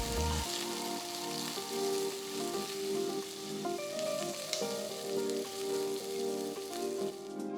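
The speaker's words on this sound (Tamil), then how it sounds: "4-5 பல்லு பூண்டு, நறுக்குன ஒரு சின்ன துண்டு இஞ்சி, நறுக்குன 2 வெங்காயம் சேர்த்து 1 நிமிஷம் வதக்குங்க போதும்." Steady, close sizzling of garlic, ginger and onions frying in a hot pan, a constant crackling hiss without pauses.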